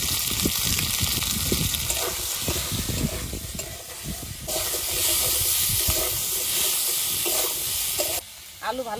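Potatoes with salt and turmeric sizzle in hot oil alongside fried green chillies and onion, a loud, continuous frying hiss broken by repeated stirring scrapes and clatters from the pan throughout.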